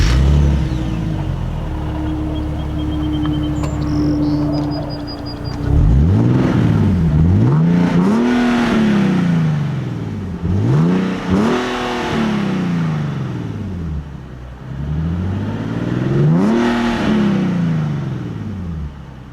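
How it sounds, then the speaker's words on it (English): A Nissan 370Z Nismo with larger, Nismo-tuned exhaust pipes idles with a low drone, then blips its engine in three or four sharp revs that rise and fall, loud and close with no talk. "we're also going to have larger exhaust pipes with special Nismo tuning for the exhaust"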